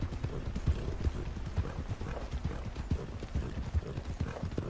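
Steady clip-clop of horse hooves as a rider circles continuously in Red Dead Redemption 2 Online, a regular rhythmic trot under faint background ambience with occasional tack rattles.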